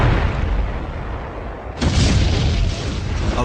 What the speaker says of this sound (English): artillery shells begin exploding everywhere